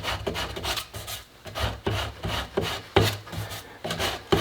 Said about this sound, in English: this plastic helps me, or plastic piping helps me get inside that fluting.